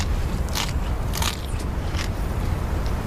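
Someone bites into a crunchy patty made of locusts, beetles, praying mantis and moth, producing close, dense crackling and crunching over steady background noise, with a few sharper crunch bursts.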